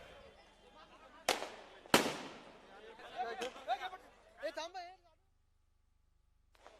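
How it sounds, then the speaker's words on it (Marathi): Two sharp firecracker bangs go off close by at a political election rally, followed by a crowd's shouting and chatter that drops away into near silence. "फटाके वाजवणं बंद करा"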